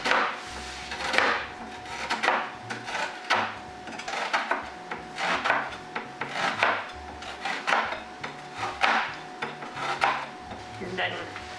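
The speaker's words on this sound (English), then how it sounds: "Peel off that onion skin. Now we're gonna cut." A knife slicing through an onion on a wooden board while making Rahmgeschnetzeltes, with repeated rasping chops in a steady rhythm, close and moderately loud, with light kitchen clatter.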